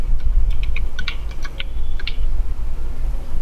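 C code is tapped out on a computer keyboard in short bursts of light, close key clicks with gaps between them, over a loud steady low hum.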